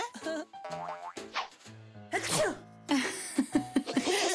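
A single cartoon sneeze from a children's animated show about colors, voiced with a comic buildup and burst, followed by playful bouncy tones.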